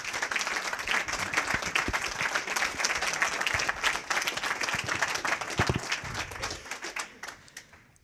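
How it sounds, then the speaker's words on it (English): Round of applause from an audience at a podcast recording with a Hillsdale College associate dean; brisk, continuous clapping held for several seconds, then thinning and fading out near the end. "do want to give you a round of applause for a phenomenal"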